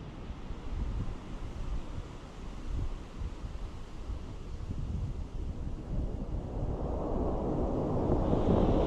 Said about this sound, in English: High wind velocity again.